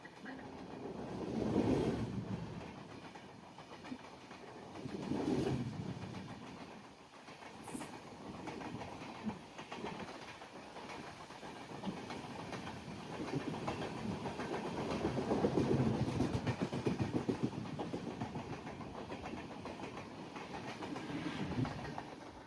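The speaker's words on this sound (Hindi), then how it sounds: "देखते हैं कौन सी ट्रेन है। गरीब रथ एक्सप्रेस है।" The Garib Rath Express rolls past on the Konkan Railway in monsoon weather, a steady rumble with rhythmic clickety-clack swells as carriages go by, moderately distant.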